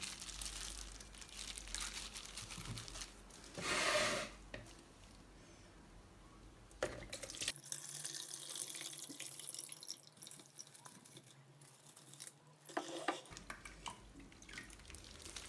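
Tap water runs into a container in a home kitchen while preparing tamarind juice for a Ramadan table, about half a litre poured in a steady splashing stream, with a break midway and some crinkling handling noise.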